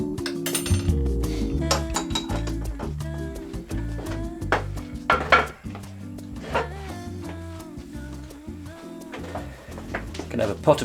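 A teapot and china dishes clink and knock on a kitchen counter while tea is made, with scattered sharp ceramic taps and rattles throughout under a person talking.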